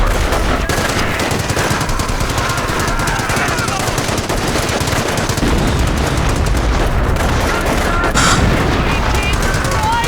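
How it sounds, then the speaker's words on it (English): Continuous loud gunfire and battle noise in the World War II strategy game Company of Heroes, rapid machine gun bursts and blasts during an artillery strike, with game voices heard throughout. "Use the artillery strike ability to defeat the German."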